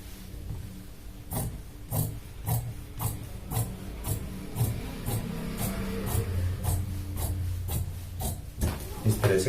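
Scissors cut through shirt fabric for a half-sleeve shirt pattern, making a quick, regular series of crisp snips close by, about two or three per second, over a soft, low background murmur.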